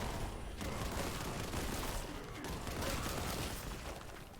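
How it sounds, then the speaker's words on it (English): Bolt gun fire in the video game Warhammer 40k Boltgun, a dense stream of rapid explosive shots with booming impacts, loud and continuous throughout. "I love this bolt gun."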